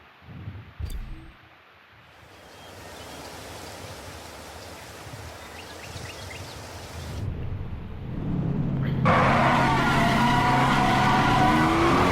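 A McLaren F1 race start in the PS5 video game Need for Speed Hot Pursuit Remastered: a low engine rumble builds over a few seconds, then a loud, dense engine roar and tire hiss take over and hold steady to the end.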